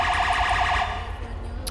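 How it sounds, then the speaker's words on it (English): A wailing two-tone UK emergency siren in a video game cycles rapidly and loudly for under a second, then cuts off, leaving a steady low engine-like hum. "I hope you guys obviously enjoy the sound pack and everything else. It has the UK sirens."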